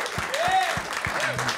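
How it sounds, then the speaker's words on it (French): Audience applause welcoming a comedian onto a stage, with a broad crackle of clapping under loud, excited voices and hoots from the crowd. "j'aimerais qu'on mette nos mains ensemble et qu'on applaudisse l'excellent humoriste, Monsieur Pierre-Bruno Rivard"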